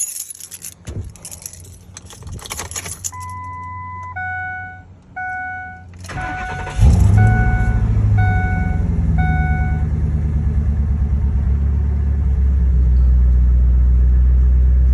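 A 2003 Ford F-250 with a 5.4L V8 being started after repair work: a few seconds of dash chimes, then the engine cranks and catches with a loud rumble and settles into a steady, close idle.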